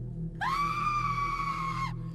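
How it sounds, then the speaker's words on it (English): An adult man lets out a single sustained scream of pain, close and loud, lasting about a second and a half over a low humming background. "It sounded like a scream in pain and a scream of an adult male."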